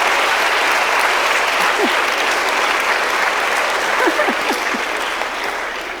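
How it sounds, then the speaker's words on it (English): An audience at a college honorary degree ceremony breaks into sustained applause, a dense wash of many hands clapping throughout, with a few faint voices or cheers rising briefly and the clapping tapering slightly at the end. "that was an applause line for the president"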